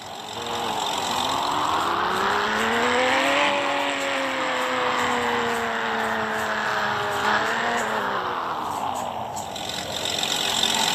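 A lowered car driving in the Roblox video game, its engine droning steadily with pitch rising and falling as it speeds up and slows, loud and continuous throughout with no talking.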